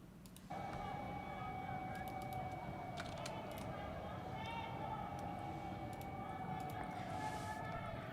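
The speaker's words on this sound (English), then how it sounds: "they have like war sirens or whatever, right? Like missile sirens" Air-raid siren in the war game Arma 3: a loud, steady held tone that starts abruptly after half a second and drones on continuously, with scattered faint clicks over it.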